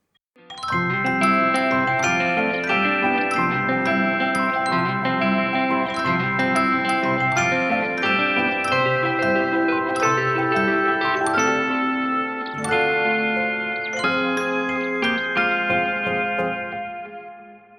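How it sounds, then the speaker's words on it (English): Celeste and piano play an original song together, bright chiming bell tones over piano chords in a steady, continuous passage, close and loud with no voices. "I'll play that through with the Celeste and the piano, so you can hear how they play off each other."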